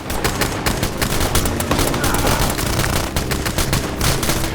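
Continuous heavy gunfire in a firefight, overlapping automatic bursts and single shots at steady loud volume throughout, with no distinct voices over the shooting.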